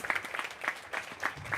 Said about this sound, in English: give these amazing elected officials another really big round of applause